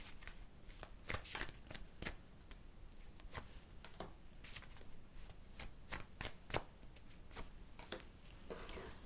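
Tarot cards are shuffled for a reading, giving repeated quick riffles and soft flicks in an uneven rhythm, heard close and clear with no one talking.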